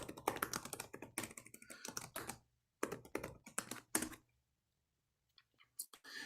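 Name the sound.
typing on a computer keyboard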